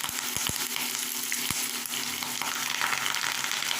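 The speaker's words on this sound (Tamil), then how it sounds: "கருவேப்பில் கொஞ்சம் நல்லா ஒடிகிற அளவுக்கு கொஞ்சம் வதக்கி விட்டுக்கலாம்" Curry leaves frying in hot oil for a lemon pickle, a steady, dense crackling sizzle that fills the whole stretch, with a few sharp pops near the start and no voices.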